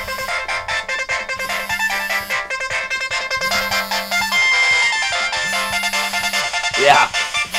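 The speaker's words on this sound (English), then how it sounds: "Whose phone is ringing?" A Clarity C900 senior cell phone with a boosted-volume ringer plays a loud, repeating melodic ringtone, its bright tones continuous and up close for the whole stretch.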